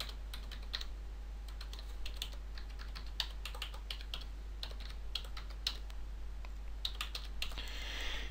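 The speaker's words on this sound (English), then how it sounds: "So if I type in the address of a different website" Steady typing on a computer keyboard while a website address is entered, with quick uneven clusters of key clicks running throughout against a faint constant hum.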